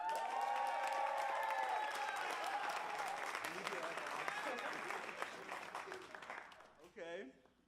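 An audience at a team competition event claps and cheers loudly, building to a sustained ovation that thins out toward the end, where a voice briefly cuts in.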